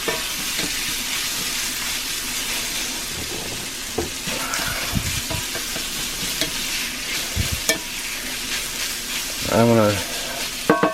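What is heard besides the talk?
sauce cooking and sizzling in a cast iron skillet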